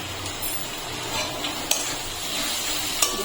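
Mutton with spices stirred in a hot frying pan: a continuous close sizzle with scraping spoon strokes and a couple of sharp utensil clinks against the pan.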